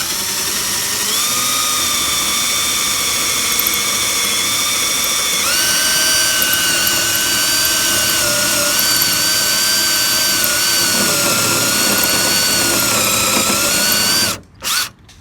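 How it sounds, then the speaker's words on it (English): A 3/4 inch metal hole saw bores through a Suzuki Samurai door, giving a loud, steady, close-up whine whose pitch steps up partway through, running continuously before cutting off briefly near the end. "here's about halfway in with the drill bit. The 3/4 inch metal hole saw."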